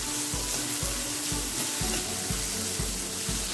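Chopped onion sautéed in a pan with a constant sizzle and regular spatula scrapes about twice a second, close and fairly loud, with no talking.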